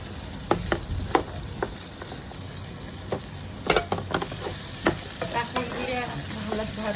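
Cubed teasel gourd fries in a pan with salt and turmeric, giving a steady close sizzle broken by sharp scrapes and taps of a spatula stirring the pieces.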